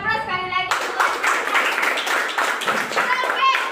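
After a brief spoken voice, an audience at an office celebration for newly promoted assistant managers breaks into loud, sustained clapping from many hands nearby.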